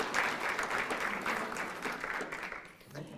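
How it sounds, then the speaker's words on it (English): Audience applause at a service-dog graduation ceremony, a steady wash of clapping that swells briefly and then fades near the end. "So a big round of applause for Maureen,"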